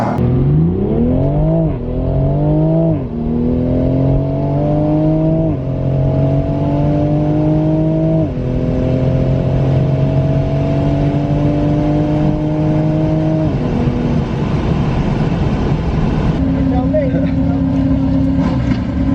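A stock 2020 Toyota Supra roars up through its gears down a drag strip, revving hard with several sharp shifts as it accelerates away, loud and close throughout.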